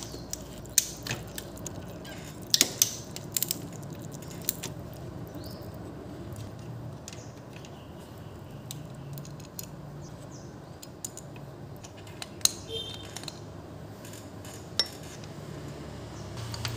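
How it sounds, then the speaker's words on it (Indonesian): Small metallic clinks and ratcheting as the three oil filter cover bolts are loosened on a Yamaha Lagenda FI motorcycle engine, close and sparse over a quiet background hum. "Sambil tunggu minyak drain, kita buka filter. C8 lah, 3 biji cover oil filter."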